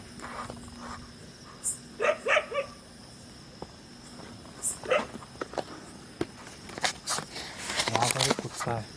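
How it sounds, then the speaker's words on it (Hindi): A dog barks in the dark at a hilltop shrine site, a few short separate barks at middle distance among footsteps and rustling, with crickets faintly behind. "वहाँ पर एक कुत्ता है।"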